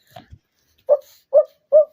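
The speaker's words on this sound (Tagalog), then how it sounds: "Dog." A dog gives three short, clear barks or yips at an even pace, close and loud, after a couple of faint low sounds.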